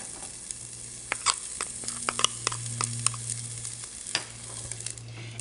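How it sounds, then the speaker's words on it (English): Diced yellow onion sautéing in olive oil, a soft steady sizzle with a few sharp clicks and taps of a utensil stirring the pan, close and unaccompanied by talk. "Now I just stir that and I saute it until the onions are soft but not yet brown"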